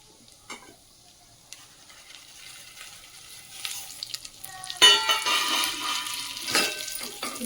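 Semiya vermicelli fries with dry fruits in a pan for semiya payasam. Quiet scraping and stirring build into a louder, crackling sizzle that continues to the end.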